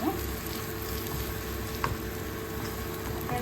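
Masala paste for a Kerala-style green moong dal thoran fries in a pan, giving a steady close sizzle and crackle with faint scraping from stirring, unbroken throughout and with no voices.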